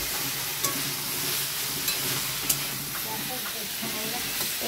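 Curry vegetables frying and being stirred in a pan, giving a loud steady sizzle with occasional spoon knocks and scrapes, without speech.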